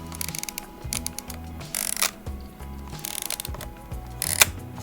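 A Pentax 17 film camera's winding lever is advanced again and again, giving close, crisp ratcheting clicks in repeated bursts with short pauses between strokes.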